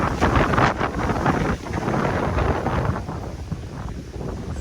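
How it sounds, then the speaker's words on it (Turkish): Gusty wind storm roars across the microphone, rising and falling in strength, a heavy rumbling blast with no one speaking. "felaket bir rüzgar fırtınası."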